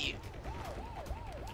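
Wailing ambulance siren in the Spider-Man Web of Shadows video game, a repeating rising-and-falling tone that cycles several times, moderately loud over street noise.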